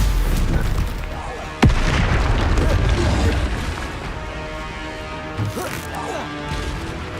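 A Stupefy spell lands in Hogwarts Legacy with one sharp, loud crack, followed by rumbling, clattering game combat and a voice casting spells over the noise.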